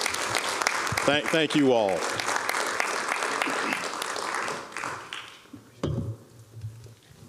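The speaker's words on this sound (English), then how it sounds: "Could we please give each and every member here a round of applause" Audience applause at a house of worship security briefing, a broad wash of clapping that a voice briefly speaks over before it thins out and fades.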